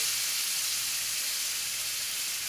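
Beef sizzling as it sears in a hot pan for carpaccio, a steady bright frying hiss that stays even and close with no talking.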